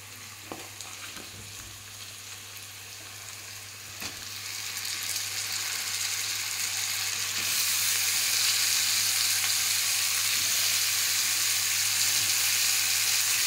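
Cabbage frying with onions, green chillies and spices in oil in a home kitchen for kosu poriyal, a steady sizzle that grows louder and brighter midway and holds, with faint stirring scrapes and no talk.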